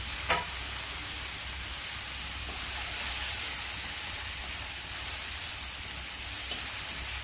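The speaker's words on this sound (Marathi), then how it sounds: "थोडी फ्राय होते" Grated carrot frying in a pan while oats upma is made: a steady, even sizzle and hiss continues throughout, close and moderately loud, with a faint clink or two and no talking.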